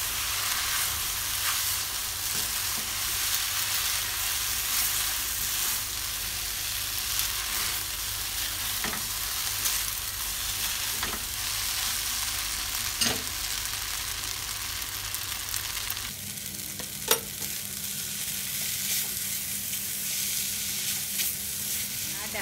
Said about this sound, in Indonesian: Ini dimasak sampai airnya benar-benar kering.